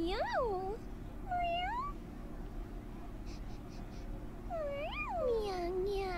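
A cat meows several times, close and clear, with rising and falling cries at the start, middle and end over a low steady background hum.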